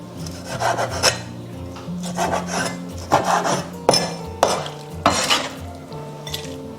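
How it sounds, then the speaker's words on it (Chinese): Knife slicing squid into rings on a cutting board, a steady run of close, loud rasping cuts and knocks with short pauses between strokes, no talking. "接下来我们把这个鱿鱼的2片给它撕下来，然后再给它切圈"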